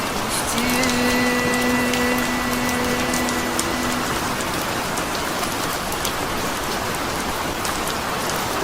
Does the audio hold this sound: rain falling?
yes